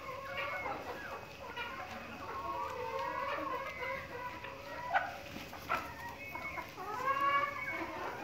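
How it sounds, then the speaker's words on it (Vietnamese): Caged chickens in a farm coop in Vietnam: repeated overlapping clucks and squawks from several birds, faint to moderate, with a few louder calls among them and no voices. "Đây là mô hình chăn nuôi gà nhốt chuồng của khách hàng bên mình ấy"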